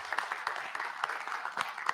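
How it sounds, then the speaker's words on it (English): Applause from an audience at a school board of education meeting, honoring cheerleaders: a steady round of clapping from many hands, moderately loud and dense, lasting about two seconds without speech. "All right, round of applause."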